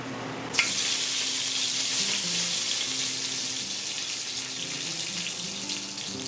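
Curry leaves and cumin seeds dropped into hot oil for a Trinidadian curry goat, a sudden loud burst of sizzling that settles into a steady, close, continuous crackle with no voices.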